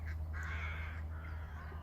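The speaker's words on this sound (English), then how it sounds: "I'll be quiet for a minute so you can listen to the birds" Birds call outdoors with a red kite nearby, a few short harsh calls rising over a steady low background rumble, faint and somewhat distant, with no one talking.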